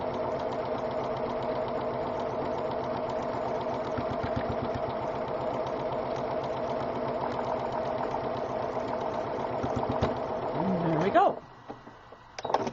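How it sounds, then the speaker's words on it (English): A sewing machine stitches fabric in a fast, steady mechanical chatter that runs close and continuous for about eleven seconds before stopping abruptly. A brief spoken word comes near the end. "commence sewing"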